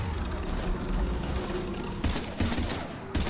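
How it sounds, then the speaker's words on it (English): Heavy gunfire in the Mass Effect 3 action game, a steady clatter of weapon fire and mechanical battle noise, with sharper bursts of shots toward the end, close and loud with no talk. "Taking heavy fire."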